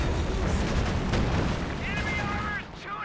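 Several Pak 40 anti-tank gun shots boom in a Company of Heroes 2 battle, heavy low blasts layered over dense battlefield rumble, with a voice talking through the action.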